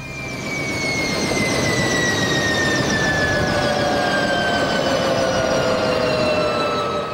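Several helicopters set down together in close formation at Rocamadour, a loud steady rotor and turbine roar with whining high tones sweeping gradually downward, continuous and near throughout.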